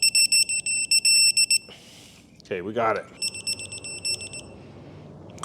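A device on a 1967 Mooney aircraft beeps in fast repeated trains, loud and close, then stops while a person speaks briefly before the beeping resumes more faintly.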